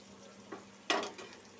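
Crushed garlic dropped into a pan of frying kantola curry, a brief soft clatter and then a sharp burst of sizzling that fades out, close up, with no talking.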